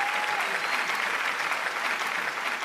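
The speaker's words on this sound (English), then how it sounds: "You can clap for us now." An audience at a comedy awards show claps steadily for a few seconds. The applause is even and moderately loud, with no voices over it.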